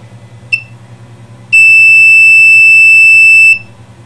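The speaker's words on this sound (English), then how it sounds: "And now you will hear the buzzer" A fixed-time countdown timer buzzer gives one short high electronic beep, then after a pause a loud steady tone lasting about two seconds over a low background hum.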